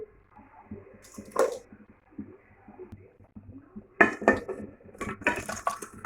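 Fried rice cakes (pitha) dropped one by one into boiling milk in a pot, clinks of metal utensils against the pot with wet splashes in short bursts and quiet gaps between.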